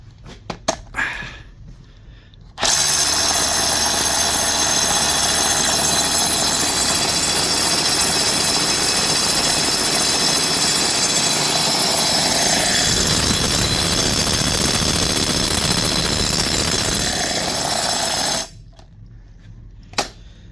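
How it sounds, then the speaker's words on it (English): A repaired Dewalt DCH273 rotary hammer drill, rebuilt with parts from an old broken drill, starts abruptly and runs loud and steady for about sixteen seconds with a harsh buzzing drone, then cuts off sharply into near silence. "We'll see if it drills."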